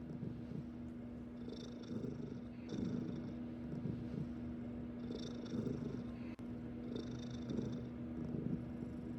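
A cat purring steadily at close range, a low continuous rumble with faint rhythmic breaths, alone with no talking, somewhere amid the packing of fabrics and craft supplies during an art studio makeover.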